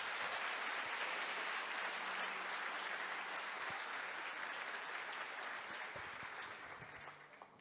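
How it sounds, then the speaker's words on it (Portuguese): A church congregation applauds during a sermon, a broad, steady wash of many hands clapping at moderate distance that gradually thins and fades toward the end, with no voices. "Você pode aplaudir o Senhor Espírito Santo?"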